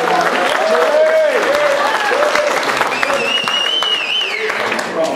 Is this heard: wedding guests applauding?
yes